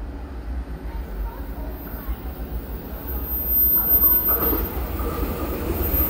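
A twelve-car EMU3000 Tze-Chiang express train pulls into a station on the Shulin to Xinzuoying run, its low rail rumble building steadily under people talking nearby.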